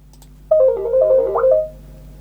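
The Microsoft Teams "wish granted" ringtone plays alone, a short, bright electronic melody of chiming notes with a quick rising sparkle near the end, then a held note that fades out.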